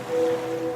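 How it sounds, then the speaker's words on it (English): Ocean waves sound effect from a radio ad, a steady washing surf with a constant hum underneath, brief and alone with no voices. "now you're drifting asleep to the scent and sound of waves"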